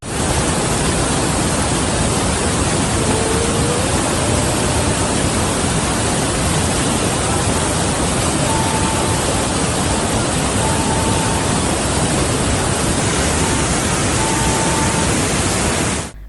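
Floodwater surges around the Edupayala Durgamma temple after days of heavy rain, a steady loud roaring rush that fills the whole stretch without a break.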